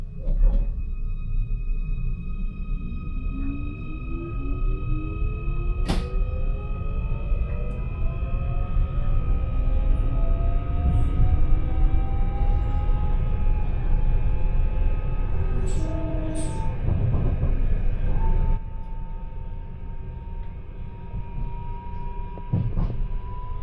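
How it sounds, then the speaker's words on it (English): A Merseyrail electric train pulls into Manor Road Station in Wirral, with steady low rumble, rising motor whine and wheel squeal as it slows, plus a few sharp clanks and door sounds near the end. "Train is arriving at Manor Road Station."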